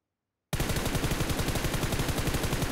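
An M249 machine gun in the mobile game PUBG Mobile opens up after a brief silence, firing a loud, rapid, unbroken burst of evenly spaced shots close up, with no talking.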